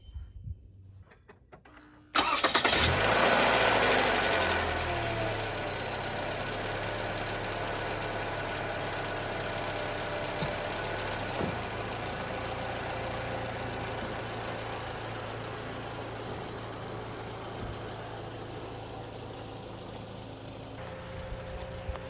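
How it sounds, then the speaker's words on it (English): A 2012–2017 Toyota Camry engine cranks briefly and catches, then settles into a steady, close idle with a low hum that continues for about twenty seconds, no talking over it. "So let me crank it up and ease her off the rack."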